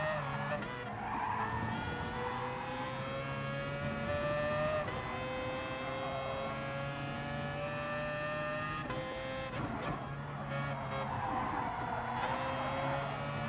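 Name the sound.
race car engines in Gran Turismo Sport video game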